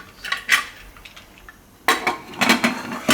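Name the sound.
closing the lid of a pressure cooker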